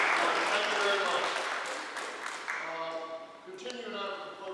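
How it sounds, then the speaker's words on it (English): Audience applause at a community gathering, a dense wash of clapping that fades over several seconds while a voice talks over it, with some harmonic voice traces near the end. "Let's give her another round of applause."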